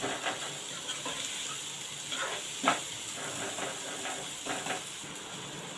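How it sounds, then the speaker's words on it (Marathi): Chopped onion and tomato frying in a pan, a soft continuous sizzle and hiss with faint scraping stirs now and then, quiet and close. "कांदा आणि टॉमॅटो दोन मिनिट परतून घेऊया"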